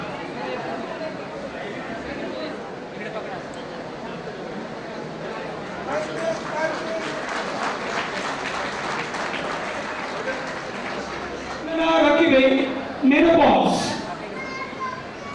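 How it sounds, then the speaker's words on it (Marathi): An audience at an award ceremony in Nashik breaks into applause, a dense patter of many hands clapping, with people talking over it near the end. "त्यांना टाळ्यांचा गजरा त्यांना दाद द्यायची आहे अशी विनंती करतो"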